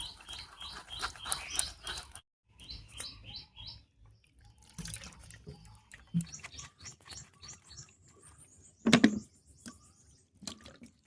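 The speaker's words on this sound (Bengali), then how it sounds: "এবারে জল দিয়ে ছেঁকে নেব।" Water is poured over ground fresh corn paste to strain it, making irregular close splashes and trickles while birds chirp in the background.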